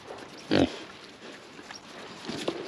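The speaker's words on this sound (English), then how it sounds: "they're very affectionate pigs" Pigs on a farm grunt while hay is brought out to them, with one louder burst of low grunting near and several fainter snuffling grunts afterward, no talk over them.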